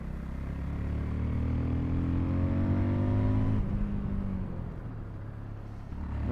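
Fantic Caballero 500 scrambler motorcycle engine revs up through rising pitch, holds, then drops back toward idle, loud and close with no talking.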